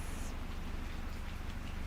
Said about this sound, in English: We have already a beautiful sound of the rain